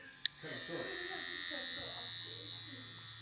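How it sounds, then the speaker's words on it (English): Suprent Black Devil hair trimmer clicks on and settles into a steady, fairly quiet electric buzz close by, running continuously while a person talks over it. "Let's go ahead and turn the trimmer on."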